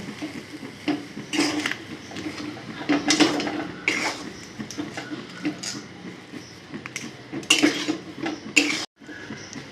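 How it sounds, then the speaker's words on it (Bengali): Spices being stirred into grated potato in a pan for aloo paratha, with a metal spoon clinking and scraping the pan in irregular bursts, moderately close, with soft rustling in between. "এই সমস্ত মশলা দিয়ে ভালো করে নেড়ে চেড়ে নেব"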